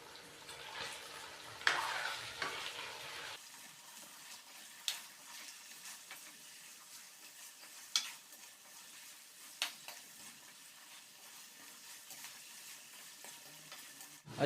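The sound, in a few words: chicken being stirred and fried in a kadai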